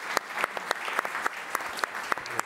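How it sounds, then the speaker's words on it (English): An audience at St Vincent's hospital applauds a cardiothoracic nurse, with distinct individual claps standing out over a dense, steady wash of clapping. "she's deserves a round of applause"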